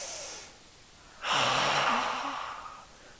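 Breathing while holding a yoga Warrior 1 pose: a soft, faint breath trails off, then after a pause a long, loud, airy exhale pushes out close to the microphone and slowly fades.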